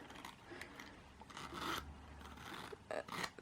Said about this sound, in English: the zipper doesn't just go smoothly.